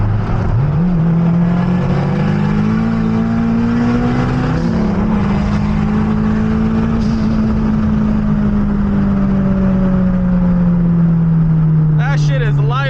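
A turbocharged K24 Honda engine accelerates hard, racing a Dodge Challenger, with a loud, sustained drone that climbs in pitch, dips briefly at a shift, then holds steady. Faint chirps sound near the end.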